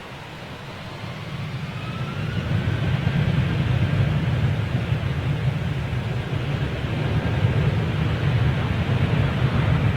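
An aircraft departing Manchester Airport gives off a broad, steady jet roar that swells gradually and holds at a moderate distance, with wind-like rumble and no talking.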